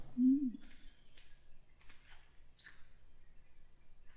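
Mouse clicks during drafting work in AutoCAD Inventor, a series of five or six sharp, light clicks spaced about a second apart, preceded by a brief low tone. No one speaks.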